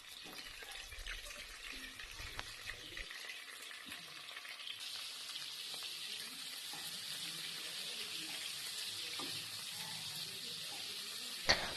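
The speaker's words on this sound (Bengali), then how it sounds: "এবার তেলটা গরম হলে নুন হলুদ মাখিয়ে রাখা মাছগুলোকে একে একে লাল লাল করে ভেজে নেব" Prawns fry in hot mustard oil in a pan, giving a faint, steady sizzle that runs throughout and ends with a sudden clatter.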